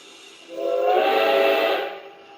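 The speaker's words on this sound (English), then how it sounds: "Can I do a whistle quill?" A whistle quill sounded by a Blunami sound decoder in an F scale (1:20.3) Rio Grande model train, a single rising and falling whistle lasting about a second and a half, clear and fairly close against quiet.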